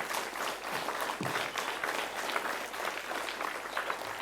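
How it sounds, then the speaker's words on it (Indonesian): Applause from a crowd at a primary school ceremony in Bengalon, given for the flag ceremony officers: steady, dense clapping from many hands that runs throughout without a break. "Boleh dikasih aplaus dulu buat mereka."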